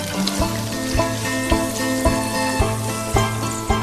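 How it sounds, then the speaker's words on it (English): Steady loud sizzling from a hot frying pan being deglazed with cider, with a rhythmic clatter of stirring or scraping every half second or so. "Deglaze the frying pan with the cider and pour over the rabbit"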